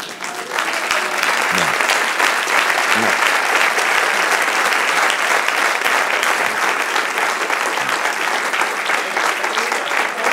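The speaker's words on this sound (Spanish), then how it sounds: "Dale un aplauso al Señor." A church congregation claps during a sermon, a long sustained wall of applause at close range that stays loud and dense, with a few faint voices mixed in.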